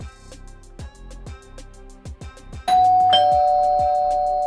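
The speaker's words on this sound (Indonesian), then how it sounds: "Bel pulang sekolah baru saja berbunyi." An electronic school bell chimes for the end of the school day, two bright tones sounding near and loud, with the second tone sustained and ringing out over the tail of a rhythmic musical backing.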